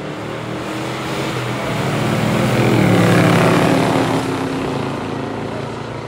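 A 1970 Chevelle SS with a 402 V8 racing a 1969 Dodge Dart, the engines roaring loudly as the cars pass close by, swelling and then fading.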